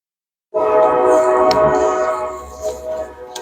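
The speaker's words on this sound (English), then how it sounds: "I hear that train." A train sounds its horn nearby, a loud sustained tonal blast starting abruptly and holding for several seconds, with rumbling rail noise beneath it outside a recovery center in Medina County.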